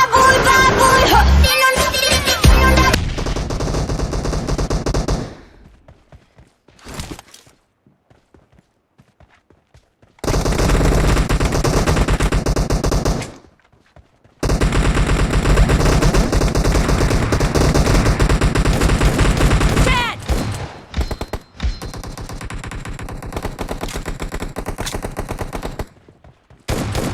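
Rapid gunfire from a first-person shooter video game, bursts of automatic and single shots loud and close, separated by short near-silent gaps, with game announcer voice lines faintly mixed in.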